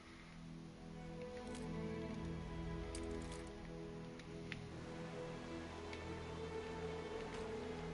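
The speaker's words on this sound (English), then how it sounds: "Quick bout of rain." Steady rain in the city-building game Anno 1800, a soft, even patter that stays constant and fairly faint throughout, with no talking.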